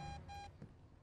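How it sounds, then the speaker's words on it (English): Two short, clean electronic beeps from the horror game The Beast Inside, heard in quick succession and followed by a faint thud, quiet with no talk. "what are you beeping for?"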